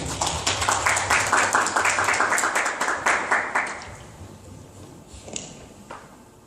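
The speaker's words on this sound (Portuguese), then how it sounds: "dar uma salva de palmas para o intérprete de César Rafael" An audience claps for a sign language interpreter at a talk, dense applause for about three and a half seconds that then thins into a few scattered claps and faint room noise.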